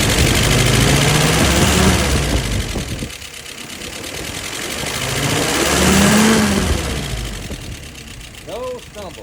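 An engine, Brian's WO 539S, is cranked over and revved, rising in two broad swells of mid-range roar over about nine seconds before easing back, fairly loud and close.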